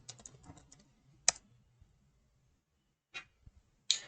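A few quiet keystrokes clatter on a computer keyboard while a command is typed, a quick flurry followed by isolated taps with pauses between them.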